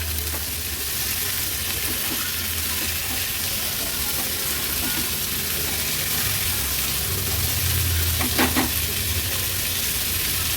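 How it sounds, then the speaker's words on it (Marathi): Carrots and peas stir-fry in oil in a home kitchen, a steady close sizzle with intermittent scraping and stirring, a voice faintly in the background. "तेलावर छान आपल्याला गाजर आणि मटर परतून घ्यायचे आहेत"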